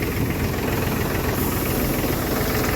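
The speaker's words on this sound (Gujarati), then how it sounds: "એક ટ્રેક્ટર નીકળી ગયું છે અહીંથી" A tractor engine runs close by, a loud, dense, unbroken rumble with a rough vibrating texture and no voices over it.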